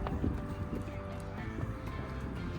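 A tired mustang moves about at a horse adoption holding area, its hooves shuffling faintly against steady background noise.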